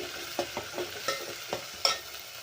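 Ginger paste sizzling in hot oil for pav bhaji masala, with a soft steady fry punctuated by several sharp spatula taps and scrapes, close and clear.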